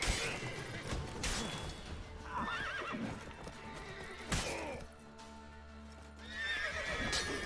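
Roach, a horse in The Witcher 3, whinnies several times over the clip-clop of hooves, with sharp impact sounds in between. The sounds are close and fairly loud.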